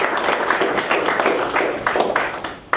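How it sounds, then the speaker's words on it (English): An audience gives a round of applause during a workshop session, a burst of crisp close claps with some uneven louder hits, tapering slightly toward the end. "Everybody, round of applause for Terrell."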